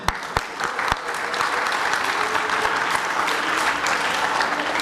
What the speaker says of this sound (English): Please, clap your hand.